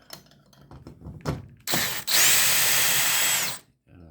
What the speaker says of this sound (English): You use a socket driver on a handheld, or I have it on a drill here.